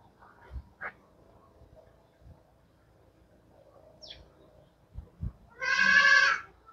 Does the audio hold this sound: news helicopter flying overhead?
no